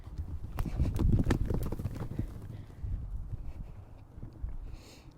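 A horse's hooves clip-clop past on the ground, quick running footfalls loudest early and fading toward the end, at moderate distance under light wind.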